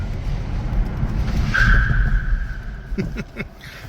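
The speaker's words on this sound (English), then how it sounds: "Just a quick chirp of ABS here on the concrete." A 2023 Kia Niro EV brakes hard on concrete, ABS engaging, giving a brief high tire chirp and squeal over engine and road rumble, followed by a few short thumps.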